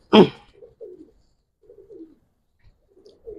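Giribaz racer pigeons coo in several soft, low phrases spread across the moment, opening with a brief louder flutter-like burst; close and fairly quiet, with no talk.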